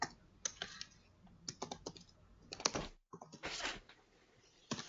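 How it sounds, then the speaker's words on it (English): Typing on a computer keyboard at a command line during a database programming class, a run of close key clatter in uneven bursts with brief pauses between. "You're typing on the command line."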